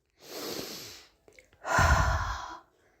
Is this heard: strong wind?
no